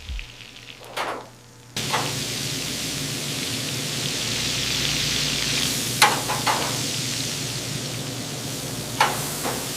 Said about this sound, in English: The moment the frozen patty hits the scorching grill, the molecular reaction begins